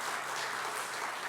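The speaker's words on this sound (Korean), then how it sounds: "위해서 박수 한번 해주시기를 바랍니다." Dense, continuous applause from a congregation at a church service, steady and loud throughout the short stretch.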